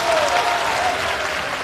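A studio audience at a live crosstalk comedy competition show applauds, a dense, steady burst of clapping filling the short moment.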